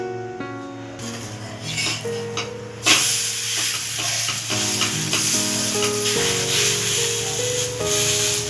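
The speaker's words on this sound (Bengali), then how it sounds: "বাকিটা আমি এভাবেই ভেজে নেব পরোটাগুলোকে" Paratha frying in a pan for a quick breakfast, a steady sizzle running through the whole stretch under prominent background music with sustained tones, getting slightly louder partway through.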